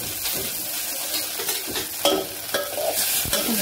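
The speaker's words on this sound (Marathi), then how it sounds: "कांद्याला चांगलं परतून घ्यायचे।" Chopped onion sautéing in a pan, a continuous sizzle and fry broken by several sharp stirring scrapes of a spoon against the pan, close and moderately loud, with no voices.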